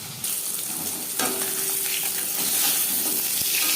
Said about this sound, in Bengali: মাছের মাথা একটা সাইড ভাজা হয়ে গেলে অপর সাইডটা উল্টে দেবো